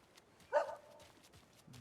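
A single short bark from a dog in the Alan Wake II video game, faint and distant against a quiet background.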